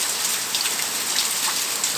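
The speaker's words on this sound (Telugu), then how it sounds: "బయట వాన పడుతుంది." Heavy rain falls outside in a dense, continuous hiss of drops hitting surfaces, steady and fairly close throughout.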